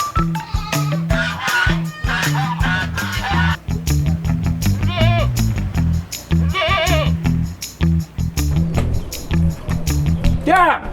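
Goat kids bleat repeatedly and loudly close by during preparations for Qurban, wavering cries coming in several bursts, with people talking in a local language around them.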